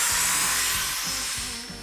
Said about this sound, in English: I'm being really gentle with the detail sander